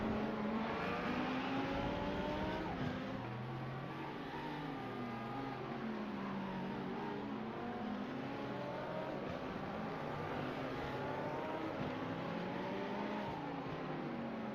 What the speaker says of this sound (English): Chases that red Ferrari into the chicane, now out onto the front stretch.